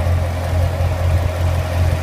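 A 2014 Chevrolet Corvette Stingray C7 convertible idles with a deep, steady exhaust burble, loud and close throughout with slight pulsing rhythm and no talk.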